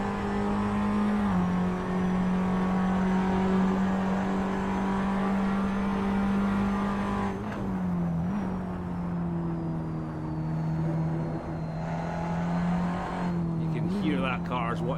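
Onboard a Tatuus single-seater race car at Silverstone: a loud, constant high engine drone that dips and rises through gear changes and corners, with a commentator talking over it.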